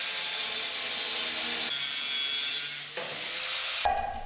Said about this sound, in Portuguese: Para fazer o corte da cantoneira, não tem muito segredo